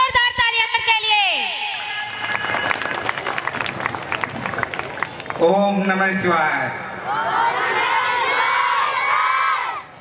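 Crowd at a school annual function cheering and shouting, with children's voices rising over a lively audience and a burst of louder cheers midway; someone speaks over the noise at the start.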